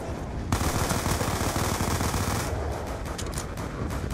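Black Ops 2 campaign gunfire roars as a loud, continuous burst of automatic fire, dense and sustained through most of the short stretch.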